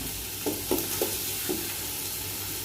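Vegetables sautéing with ginger garlic paste in a hot pan for veg biryani, a steady close sizzle with a few brief stirring scrapes in a loose rhythm, no talking.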